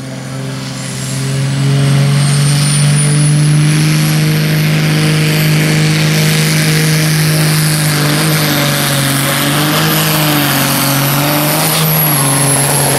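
A Supersport-class tractor named Mighty Quinn roars at full throttle in a 3.6-tonne farm tractor pulling run at Füchtorf in 2015, a loud, sustained engine drone that builds after a second and holds with rising whine.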